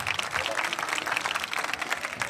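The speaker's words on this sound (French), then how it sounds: "Encore beaucoup d'applaudissements, mesdames et messieurs." Audience applause at the close of a student debate contest in Senegal, a dense, steady wash of many hands clapping throughout, fairly loud and close, with faint voices mixed in.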